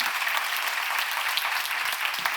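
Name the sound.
church congregation applause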